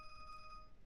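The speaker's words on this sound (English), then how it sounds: "sorry about that. That's my phone." A mobile phone rings with a steady electronic tone. It is faint and brief, about a second long, with no voices over it.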